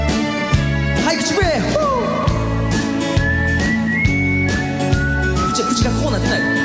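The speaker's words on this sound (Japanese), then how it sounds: "はい、口笛、" A person whistles the melody of a song over a steady musical backing, the whistled line rising and gliding in bright, sustained notes above the accompaniment.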